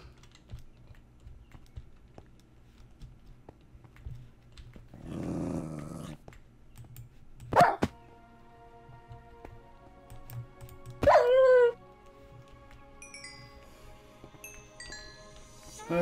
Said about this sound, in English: I don't like the dogs.